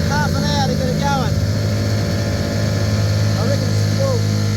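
An outboard boat motor runs steadily after a hard pull-start, its loud close drone unbroken, while a few high whistly chirps rise above it.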